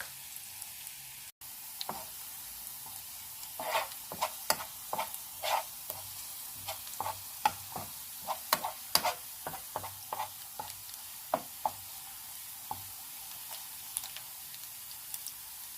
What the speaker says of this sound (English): I'm going to let the onions cook for a while before I add in the ginger and the garlic.